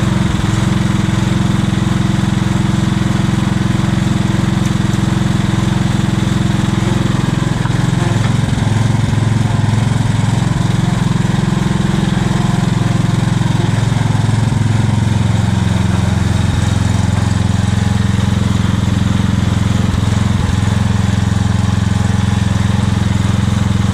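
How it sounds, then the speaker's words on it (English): A Scag hydrostatic walk-behind mower's engine running close by, a loud, steady drone with a strong low hum that shifts slightly in pitch partway through, heard alone with no talking. "the engine's running perfect"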